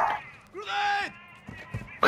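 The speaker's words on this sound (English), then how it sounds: "I wish my dogs would shut the fuck up" Pet dogs bark and whine indoors beside a Call of Duty: Modern Warfare 2 DMZ gaming session, with one drawn-out, rising-and-falling yelp followed by a few shorter, fainter barks near the end.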